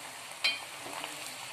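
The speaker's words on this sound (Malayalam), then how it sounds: "ഇനി നമുക്കിതൊന്ന് മിക്സ് ചെയ്ത് കൊടുക്കാം" A brief stir of aviyal vegetables with coconut paste in a pot: a single soft scrape of the spoon, followed by faint, quiet shuffling of the thick mixture, close and alone.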